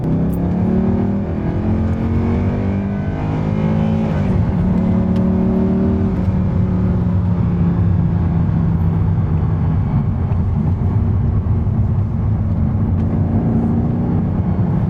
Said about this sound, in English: here we're just cruising along in 6th gear at 50 miles an hour